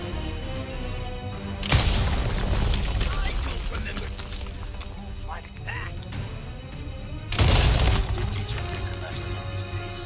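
Gunshots in Resident Evil 4 (2023 remake) during a Krauser fight, two loud sharp blasts spaced several seconds apart over game ambience and a talking voice.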